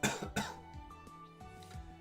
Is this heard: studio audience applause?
no